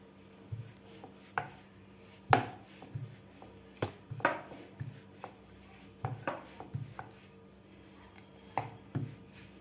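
Thin wheat dough flatbread being rolled out for kanole, a Nagpanchami sweet, with a rolling pin knocking and rubbing on a board in irregular close taps and soft scrapes, no voices.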